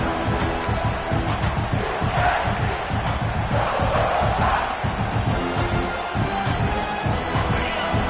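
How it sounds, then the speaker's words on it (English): A huge stadium crowd roars continuously, loud dense cheering and shouting with no letup. "this crowd is fired up. Listen to this noise here."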